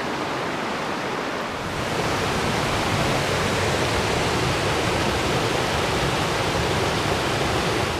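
Steady, loud roar of rushing water from a long rapid in Nova Scotia that swells after a moment, dense and continuous like a churning rapid close by.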